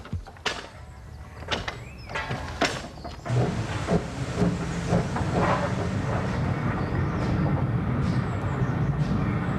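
GWR steam locomotive 3440 City of Truro being readied for service on the Bodmin and Wenford Railway, with sharp clanks and bangs early on, then a steady loud hiss and rumble of steam building and continuing.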